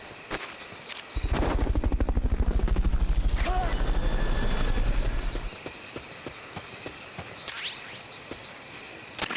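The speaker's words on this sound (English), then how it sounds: "Fulton recovery helicopter is complete." Fulton recovery helicopter in Metal Gear Solid: Peace Walker, a loud rhythmic rotor thump lasting about four seconds before cutting off, followed by quieter game effects and a rising whoosh.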